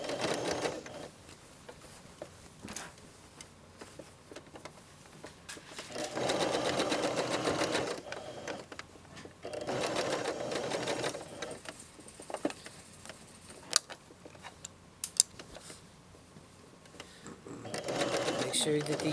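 Sewing machine stitching the hem of a jacket and joining the lining, running in several bursts of steady rapid stitching separated by pauses, with a voice talking over and between the runs.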